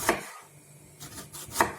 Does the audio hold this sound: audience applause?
no